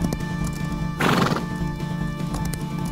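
A horse lets out a loud, shaky whinny in the middle of a steady run of hooves clopping close by.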